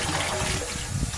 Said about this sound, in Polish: No to wtedy sobie odkręcam ten kranik i mogę napuścić do beczki.